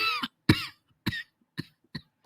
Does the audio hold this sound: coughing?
yes